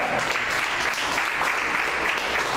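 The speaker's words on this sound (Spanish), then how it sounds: "Denle una ofrenda de palmas al Señor." A church congregation breaks into loud, sustained applause, many hands clapping together in a dense, steady wash of sound close by.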